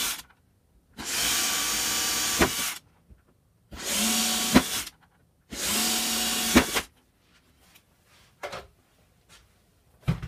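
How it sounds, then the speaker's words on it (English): Three bursts of a power drill whirring through material while drilling screw mounting holes for a Tortoise motor, each a couple of seconds long, loud and close, followed by a few short clicks and taps. "we'll drill out the screw mounting holes"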